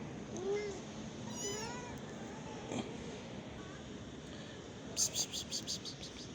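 Kittens and their mother cat meow on a balcony, with a few thin, rising cries standing out over a soft background of insect chirring and faint rustling.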